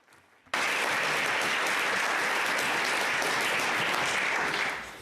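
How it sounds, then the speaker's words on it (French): Long applause fills the Senate chamber, starting abruptly after a quiet moment and holding steady and loud for several seconds before easing slightly. "J'espère qu'on ne va pas retirer ces longs applaudissements du temps que j'ai pour mon discours."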